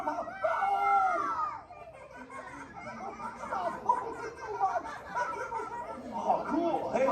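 A theme park show audience at a Disney attraction shouts and cheers together in a noisy, overlapping burst, with laughter and excited voices mixed among the crowd.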